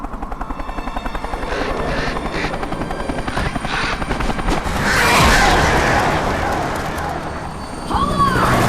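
A helicopter's rotor thumps loudly and continuously, swelling around the middle with a rumbling burst, with synthetic game-like effects layered on top.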